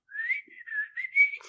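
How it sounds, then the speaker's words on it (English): A person whistles a short wavering melody through pursed lips, clear and close, with a few sliding notes and no talking. "I can whistle like this"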